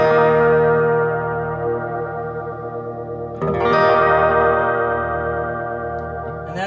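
A Nocturne Mystery Brain BS-301 guitar pedal turns a sustained, chord-rich guitar tone into a steady modulated pulse with chorus-like wobble and echo. The texture swells again midway as a fresh strum enters, and no voices are heard.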